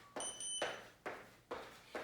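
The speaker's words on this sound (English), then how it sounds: "Turn up this timer a little bit so maybe you can hear it too" Workout interval timer during a jumping-jacks set sounds a brisk electronic beep, then a steady series of roughly evenly spaced tones about every half second, close and moderately loud with no talking.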